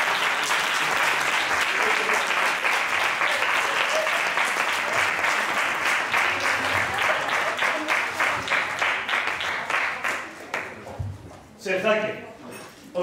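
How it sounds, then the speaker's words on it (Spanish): Wedding guests clap together in a sustained burst of applause that holds steady, then thins into scattered claps and fades near the end. "Un aplauso, por favor."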